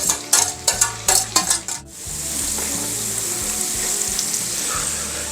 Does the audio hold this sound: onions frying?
yes